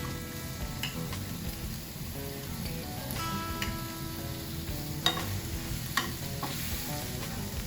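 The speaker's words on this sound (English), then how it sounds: "I'm gonna kind of move my sausage around just a little bit because I want the shrimp to pick up just a little bit of color here" Sausage and shrimp sizzle in a hot pan while being stirred, a constant crackling fry with sharp scraping clicks of the utensil against the pan at irregular moments, close and fairly quiet.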